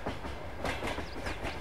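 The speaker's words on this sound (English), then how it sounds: "guess the train does run through here." A train rolls along the rails in Farming Simulator 22, with rhythmic clickety-clack wheel beats over a steady rumble, moderately close and without speech.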